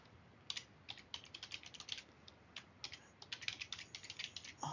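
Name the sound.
typing a username on a computer keyboard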